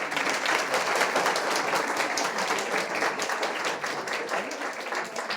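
Applause for an award recipient at a school prize-giving ceremony, a dense, steady wash of many hands clapping that fills the whole stretch at even loudness without easing off.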